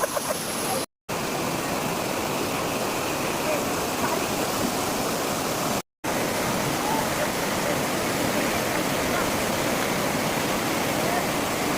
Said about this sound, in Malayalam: വെള്ളമൊക്കെ ഉണ്ട്, നന്നായി ഒഴുകി വരും